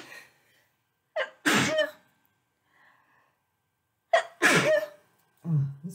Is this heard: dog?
no